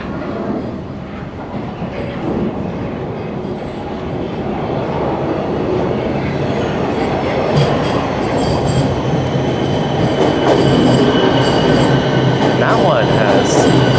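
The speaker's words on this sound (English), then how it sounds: "there is another train right on the heels of the one I was just on" A Toronto subway train pulls into a station, its rumble building steadily louder and closer, with wheel squeal and rail clatter rising near the end; no talking.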